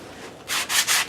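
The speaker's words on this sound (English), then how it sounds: "touch it up a little bit with sanding block." A sanding block is worked by hand over wood in a few quick rasping strokes. The strokes are close and crisp, with short gaps between them.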